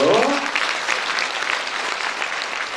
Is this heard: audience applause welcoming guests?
yes